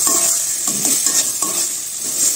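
A spoon stirring and mashing roasted eggplant, tomato and potato bharta in a bowl, with a few rhythmic scraping strokes and soft wet squelches over a steady background hiss, close and alone.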